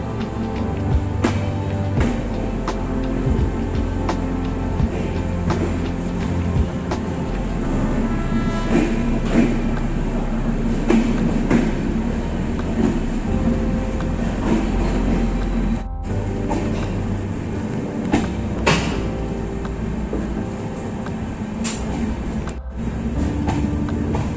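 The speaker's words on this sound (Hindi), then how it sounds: "बिल्कुल 5 मिनट की लेट से हम लोग की जो ट्रेन है वो डिपार्ट की है" Chauri Chaura Express passenger train pulling out and running, a steady loud rumble of wheels and carriages with occasional clicks and clatter throughout, heard from on board without talk.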